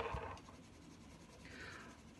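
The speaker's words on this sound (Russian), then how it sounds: "Я его раскрашиваю карандашом." A pencil colours in a drawing with soft, close scratching strokes that come in short bursts, quiet and alone with no voices.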